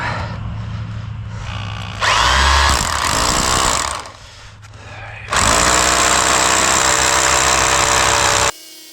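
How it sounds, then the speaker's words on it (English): A hammer drill whines loudly in two long bursts while drilling concrete steps, with a quieter rumbling stretch between them and an abrupt stop at the end. "Hammer drill."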